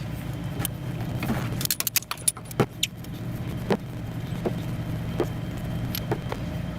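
Metallic clicks, clinks and tool taps ring out in short bursts during a spark plug change on a 1976 Datsun 280Z, set against a low steady background hum with scattered sharper knocks.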